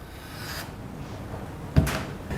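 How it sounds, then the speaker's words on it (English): A pivot door is tilted and lifted off its bottom pivot plate, giving a soft, low rumbling shuffle followed by one close, sharp thud as the door comes free. "So you tilt the door and lift it over the bottom pivot plate."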